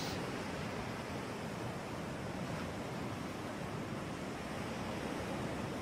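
Steady ocean surf at a beach in a cartoon, a constant soft roar of waves washing in without any clear breaks, fairly quiet and with no voices over it.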